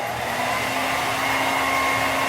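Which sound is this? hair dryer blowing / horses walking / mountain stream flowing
hair dryer blowing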